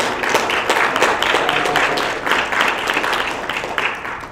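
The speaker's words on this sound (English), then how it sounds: "We have to get a huge round of applause for Riley" A crowd at a university discussion-series event about student protests applauds an intern, a dense, continuous burst of clapping from many hands that swells and eases slightly over several seconds, with no talk.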